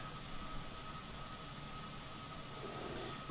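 A steady, droning aircraft engine near full throttle in Microsoft Flight Simulator 2020, a constant unbroken roar held for the whole stretch with no voices.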